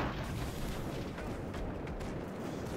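Explosions from aerial combat in the airship strategy game Airships: Conquer the Skies, a dense, continuous roar of overlapping blasts and rumbling booms that stays loud throughout, with no talking.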